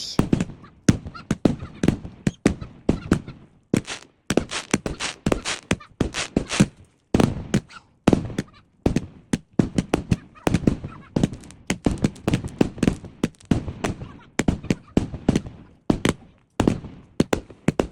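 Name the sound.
fireworks display, bazooka-style fireworks and a big finale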